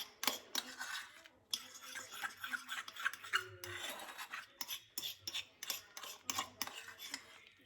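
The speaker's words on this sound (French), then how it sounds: "On remue doucement afin de ne pas casser la texture de la chantilly." Whipped cream being gently stirred with colouring powder in a bowl for a frozen pineapple charlotte, giving soft scraping and clinking utensil strokes in a steady, close rhythm, with no talk.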